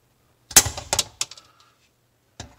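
Wire snips clipping zip ties during a garbage disposal flange snap ring install, a few sharp close snapping clicks in a quick cluster, then a pause and one more snip.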